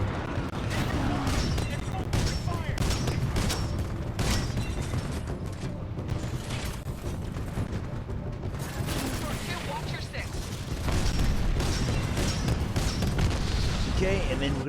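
Tracking rockets and a sonar lock firing in Titanfall 2 fill the mix with dense, continuous booming blasts and mechanical clatter, loud and unbroken throughout, with a voice talking over the combat.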